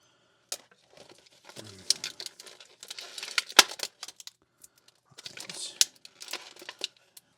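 Old sticky tape peels off a plastic toy case in scattered crackling, crinkling bursts with brief pauses, close and fairly quiet.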